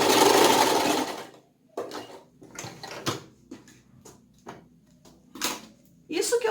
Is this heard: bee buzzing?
no